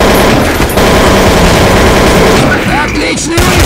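Loud, rapid gunfire in Counter-Strike Source, with dense automatic bursts and overlapping shots fired close by, alongside snatches of game voice announcements.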